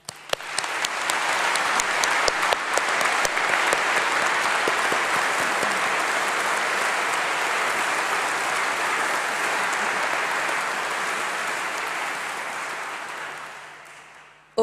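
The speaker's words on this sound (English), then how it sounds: "can we once more put our hands together for all the staff that are here today?" A graduation ceremony audience claps for the staff, steady dense applause rising quickly and holding strong and even for over ten seconds before gradually fading out.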